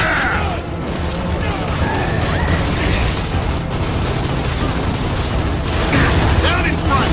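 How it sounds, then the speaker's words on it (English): Boomer enemies in Gears of War Judgment on Insane difficulty fire boom shots, giving dense, continuous rumbling explosions and mechanical clatter that stay loud and busy throughout, with no clear voices. "Stop scaring me with those boom shots, man"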